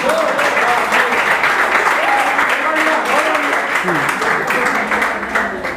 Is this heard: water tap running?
no